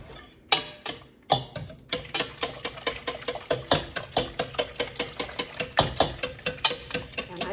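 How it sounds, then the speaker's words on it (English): A whisk beats rapidly against a pot of homemade banana pudding mixture on a stove, a steady run of sharp, evenly spaced metallic clicks and scrapes, close and clear with no talk. "And I just keep whisking till it gets hot."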